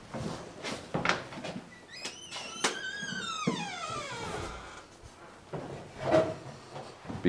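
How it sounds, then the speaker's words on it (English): A door in an old house creaks with a long, drawn-out, descending groan and is pushed shut, with soft knocks and shuffling around it, close by and fairly quiet. "As soon as I close the door."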